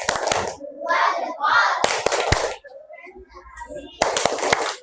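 A classroom group claps a rhythmic cheer in short bursts of sharp, loud hand claps, with children's voices chanting and talking between the bursts.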